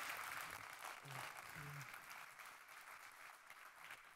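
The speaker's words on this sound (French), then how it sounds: "On l'applaudit, on l'applaudit." A small audience gives faint, steady applause for a volunteer called up from the crowd, soft and continuous with a few voices mixed in.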